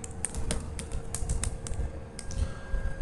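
Brisk typing on a computer keyboard, a quick run of distinct keystroke clicks close up over a low background hum, no talking.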